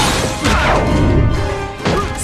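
A loud, dense crash as Spider-Man smashes the Green Goblin's glider in a film action scene, with a heavy impact that rumbles on and a second burst of debris near the end.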